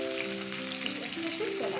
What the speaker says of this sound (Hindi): और कटी हुई मिर्च ऐड करेंगे।